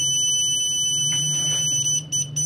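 A Growatt SPF 5000TL HVM solar inverter sounds a steady, piercing warning beep, a continuous high electronic tone over a low hum, with brief dropouts near the end.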